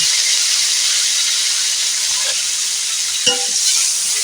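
Fried fish sizzles in hot oil with salt and turmeric, a loud, continuous hiss close by with one brief clatter partway through.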